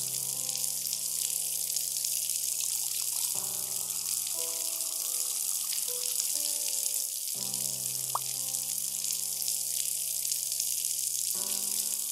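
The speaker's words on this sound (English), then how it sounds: "All it needs is a little bit of warm water." Warm water pours in the video game The Mind of Marlo: a continuous hissing trickle under soft, sustained background music tones.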